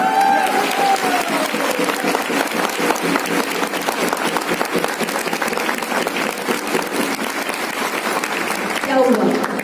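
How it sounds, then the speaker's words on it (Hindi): Loud, sustained applause from a large audience at an Indian direct-selling training session, steady dense clapping throughout with a brief swell near the end. "हम सबके अपलाइन के लिए एक बार जोरदार तालियां बजा लीजिए"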